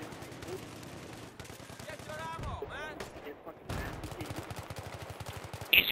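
An M16A4 rifle fires in a video game, with close, rapid bursts of gunshots mixed with excited player voices talking over the shooting.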